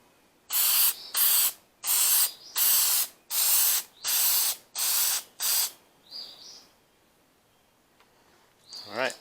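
Seven or eight long hissing bursts of an aerosol spray can applying headlight coating on a 2008 GMC 2500HD, close and loud, with short gaps between them, then quiet with a faint rattle.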